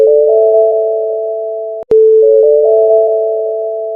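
A telephone rings with a steady, loud electronic two-tone signal, broken once by a brief click and gap before the tone resumes.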